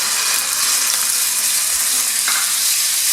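Chicken mince fries in hot oil in a pan, giving a loud, continuous broadband hiss and crackle that stays even throughout with no voices.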